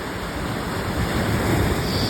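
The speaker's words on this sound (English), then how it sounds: "Back again at the water's edge, Pacific Ocean, washing up on the" Pacific Ocean surf washing up on a Hawaii shoreline, a steady broadband wash of breaking water that swells slightly louder toward the end, close and continuous with no voices.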